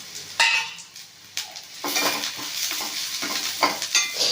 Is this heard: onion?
yes